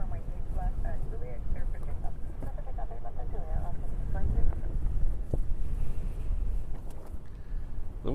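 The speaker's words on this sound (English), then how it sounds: "The wind still hasn't calmed down" Strong gusty wind buffets the microphone at Honolulu airport during a high wind advisory, a loud continuous low rumble and roar throughout.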